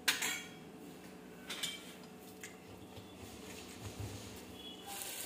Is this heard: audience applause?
no